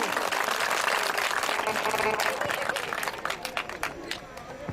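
A crowd of schoolchildren claps loudly and steadily at a cultural event honouring a Kargil war hero, the dense applause thinning slightly toward the end with background voices mixed in.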